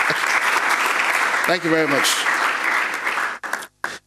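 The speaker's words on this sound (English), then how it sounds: "I would say another round of applause for me." Audience applause fills a public forum on mineral royalties, loud continuous clapping with someone briefly speaking over it midway, then the clapping breaks off into short bursts.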